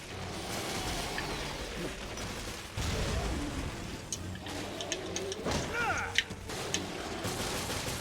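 Gunfire in the survival horror game Resident Evil: Revelations, sharp shots and bursts scattered through a dense, noisy game mix with a louder crack near the end.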